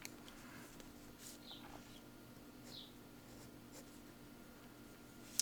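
Soft scratchy strokes of a Prismacolor Premier colored pencil moving across paper, close and quiet, in short irregular bursts.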